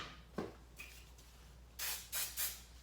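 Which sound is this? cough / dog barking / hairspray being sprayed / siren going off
hairspray being sprayed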